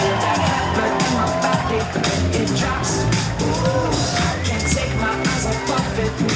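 A wedding reception crowd applauds and cheers steadily throughout, a dense wash of clapping with occasional shouts rising out of it.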